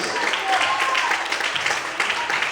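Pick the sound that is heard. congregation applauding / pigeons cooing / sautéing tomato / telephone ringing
congregation applauding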